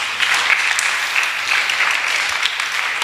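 A church congregation applauding together at a Sunday gathering, steady dense clapping that fills the whole stretch at close range, with no voices standing out.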